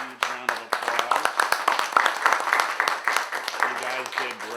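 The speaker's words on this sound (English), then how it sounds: "I want to give this panel a huge round of applause" A crowd applauds a discussion panel at a university event, a dense wash of clapping hands running steadily for several seconds, with a voice speaking over it.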